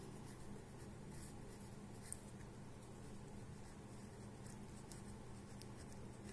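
A right angle is drawn on paper for a geometry lesson. The faint, continuous scratching of writing runs steadily throughout, quiet and close, with no speech.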